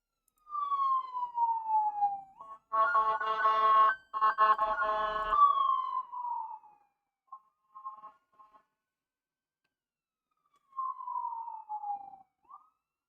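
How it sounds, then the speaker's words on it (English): Emergency vehicle sirens wail in long falling sweeps and bursts of rapid yelping, loud and fairly close, then fade into gaps of silence before one more wail returns. "Sirens are coming."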